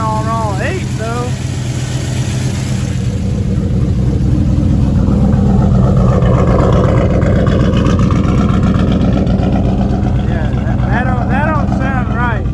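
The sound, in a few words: LS-swapped Chevy S10 truck engine running rough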